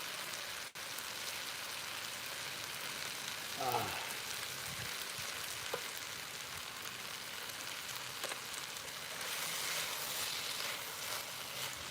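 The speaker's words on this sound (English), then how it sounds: "Can you hear that sizzle?" Peppers and tomatoes sizzle in a pan for Louisiana linguine, a continuous close hiss with a brief utensil clatter near the middle.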